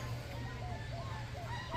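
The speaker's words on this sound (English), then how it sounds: "That bird that's squawking right now," A bird in Costa Rica squawks repeatedly in short, honking calls over a steady low hum, fairly distant and moderately faint.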